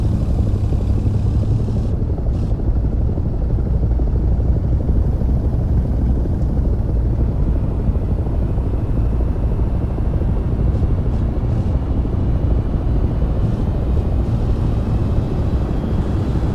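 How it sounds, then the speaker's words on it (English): Jet engine whine from a twin-engine aircraft starting up in the DCS World flight simulator, a loud, continuous roar and hum that holds steady throughout, with faint clicks of switches on top. "With the left engine started, press right, control, and Home to start the right engine."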